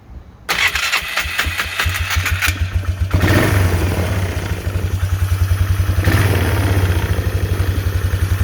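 A Polaris Trail Boss 325 ATV engine with a carburetor problem and a low idle vibration starts up and settles into a rough, pulsing idle. The engine is close and fairly loud, with a steady throb and some clatter.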